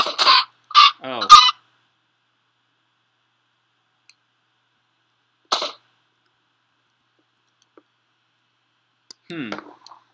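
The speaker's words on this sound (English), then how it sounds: "And the chickens come in." Chickens in the Minecraft video game give short clucks, a quick cluster of three at the start and then isolated clucks spaced several seconds apart in otherwise silent surroundings.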